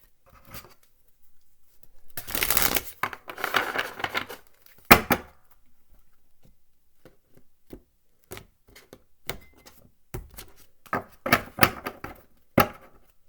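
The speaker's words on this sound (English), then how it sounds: "Okay, I'm going to shuffle one more time." Tarot cards being shuffled by hand, a burst of dense riffling and rustling followed by scattered soft card taps and flicks, close and fairly quiet with no talk.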